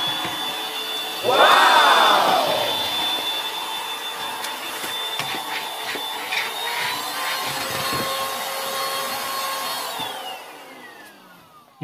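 A secondhand vacuum cleaner pulled from a dumpster whines steadily, then winds down near the end; a voice briefly exclaims early on over the motor hum.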